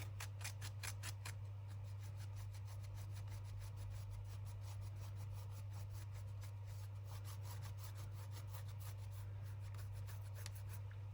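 A dry brush rubs lightly over a junk journal cover in quick, rhythmic scratchy strokes. The strokes are close but fairly soft, over a steady low electrical hum.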